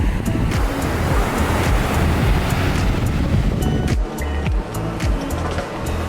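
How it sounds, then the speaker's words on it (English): Ocean waves wash onto a beach in steady, loud surf with rushing wash, and gusts of wind buffet the microphone; the roar eases slightly near the end. "I just love the sound of the ocean."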